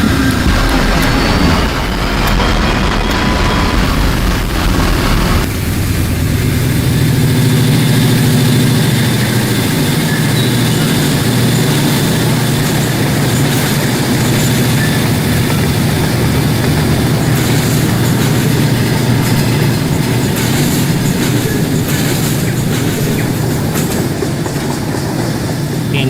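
A P-40DC diesel locomotive in the Rolling Line model-railway game throttles up into a loud, steady engine rumble with rail clatter running underneath, continuous and close, with no voices.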